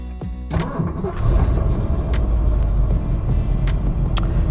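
A 1971 Ford Mustang Mach 1 with a 429 Ram Air V8 cranks briefly, then catches and settles into a loud, close, rumbling idle.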